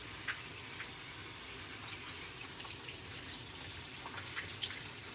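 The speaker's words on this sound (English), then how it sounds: "I'm gonna wash my hands." Running tap water splashing into a kitchen sink while hands are washed, a steady near hiss with small drips and splashes, no voices.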